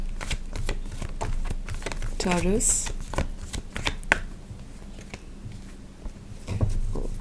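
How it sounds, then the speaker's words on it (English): Tarot cards are shuffled by hand in a steady series of crisp riffling and patting bursts close up, with someone speaking briefly over them. "Let's shuffle these as well and then we can start."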